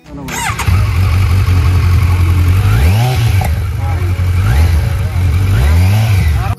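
A Kawasaki Z9 superbike fires up and idles loudly up close, then its engine is blipped in several rising revs that climb and fall back to a throbbing idle.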